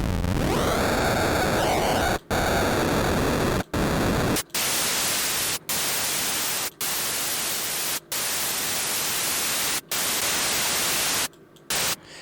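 Harsh noise from the noise oscillator of the Surge synthesizer hisses steadily, its tone sweeping and shifting, cut by brief silences at irregular intervals.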